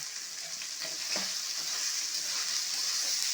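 Turmeric, salt and tomato masala frying in a pan for a mete alu (yam) curry, a close, continuous hissing sizzle that holds steady throughout with faint stirring scrapes.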